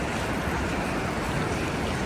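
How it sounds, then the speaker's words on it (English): Meltwater from Briksdal Glacier pours down a waterfall in a steady, dense, broadband roar heard up close, unbroken and without voices. "So this is the very top of the glacier and the waterfall."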